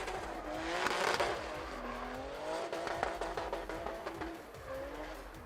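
Drift car at a Lithuanian drift championship round in Siauliai, its engine revving hard with rising and falling pitch while tires squeal through a long corner, loud and close, with a sustained roar and repeated throttle blips, no talk.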